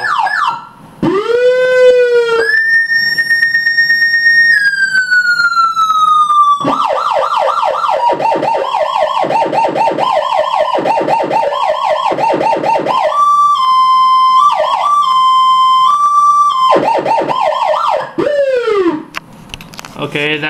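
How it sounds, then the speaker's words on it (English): A powerful Federal Signal Interceptor electronic police siren winds up into a long wail, then switches through several pulsing and alternating tones before dying away. "that's my federal signal interceptor siren"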